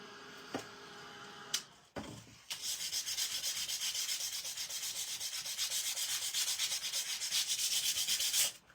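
Sandpaper rubbing over a painted, stenciled wooden sign, starting with a few short scrapes, then settling into steady, rhythmic back-and-forth strokes that run close and clear for several seconds.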